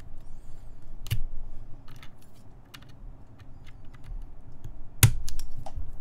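Keyboard switches being pressed into a plate during a custom mechanical keyboard build, with copper, titanium and lubed switches on hand: two sharp clicking snaps stand out over a quiet room with faint handling rattles between them.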